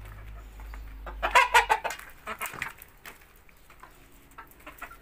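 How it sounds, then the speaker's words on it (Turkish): Chickens cluck and squawk in short bursts nearby, a quick flurry of calls that tapers into softer scattered clucks. "Bunlar da tavuklar."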